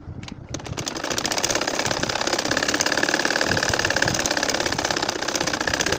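A machine stitches a nakshi kantha quilt in a loud, fast, continuous rhythmic chatter that starts abruptly and holds steady throughout, close up with no talk.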